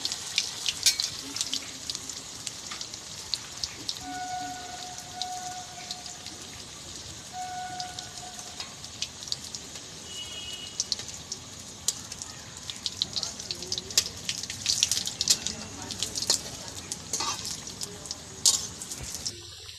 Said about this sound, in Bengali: আমি দুটো দুটো করে ভেজে নেব